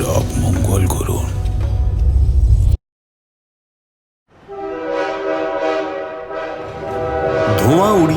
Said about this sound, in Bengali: ধোঁয়া উড়িয়ে ট্রেনটা চলে যাওয়ার পর